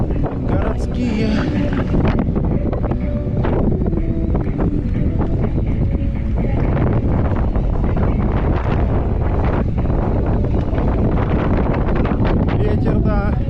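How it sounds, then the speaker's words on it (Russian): Strong wind buffets and roars across the microphone outdoors on a coastal route in Crimea, loud and continuous for the whole stretch, with faint voices mixed in. "Ветер, да."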